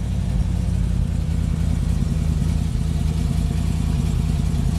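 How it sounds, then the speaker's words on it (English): Mechanically tuned car engine running steadily at a low, even idle, loud and close throughout with a constant rumble and no talk. "Car sounds real nice. Has been mechanically tuned."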